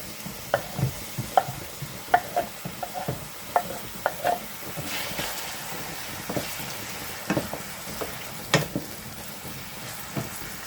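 Fresh tomatoes and pepper fry in a pan for egg sauce, giving a steady low sizzle with scattered clicks and scrapes of stirring throughout, and no talking.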